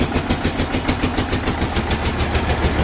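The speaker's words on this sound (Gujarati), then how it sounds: "ડાયરેક્ટ પીટીઓથી ગેરબોક્સ વાળો પંપ છે." An Eicher tractor drives a 200 gearbox pump directly from its PTO to fill a 2000-liter HDPE tanker. The engine chugs in a rapid, steady, pulsing rhythm, loud and close, with no voices.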